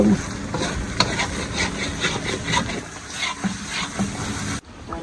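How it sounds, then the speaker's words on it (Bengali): Dried fish (shutki) fries in a pan: a continuous crackling sizzle with clattering stirs, fairly close and steady, cutting off abruptly near the end. "এখানে সুটকি ভাজি হচ্ছে"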